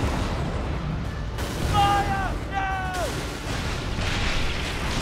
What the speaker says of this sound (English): Oh, the explosions.